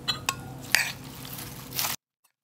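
Boneless chicken feet salad tossed with dressing in a bowl, a few wet squishes and light clinks of utensil against dish, then a short scraping swish before stopping abruptly, close and alone.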